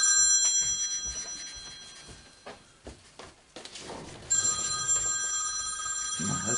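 A phone rings with a bright electronic bell tone in two bursts separated by a quieter gap with soft rustling and handling noises, fairly close.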